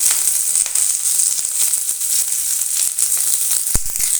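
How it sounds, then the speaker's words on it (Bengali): Onions and green chillies frying in hot oil in a kadai, a steady close sizzle running throughout with no voices. "পেঁয়াজ লঙ্কাগুলো ভেজে নেব।"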